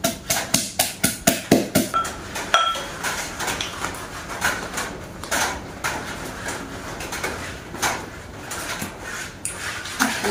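Papaya salad with sugar pounded in a mortar, opening with a quick run of about ten sharp, evenly spaced thuds that give way to irregular, lighter knocks and clatter, close and loud, with no talk.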